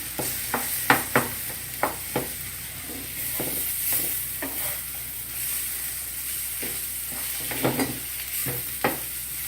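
Ragi sweet ball mixture being stirred with a little salt in a kitchen pan, a steady hiss underneath with repeated soft scraping and tapping strokes of the spoon, close and alone.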